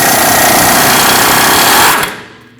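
A loud, continuous rattling power tool with a 22mm socket removes a front upper ball joint mounting nut on a Nissan Frontier, running steadily for about two seconds, then cutting off and winding down.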